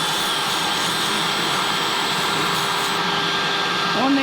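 A vacuum cleaner runs in a fabrication shop during grinding work, its steady airy whine and broadband hiss holding constant and close throughout.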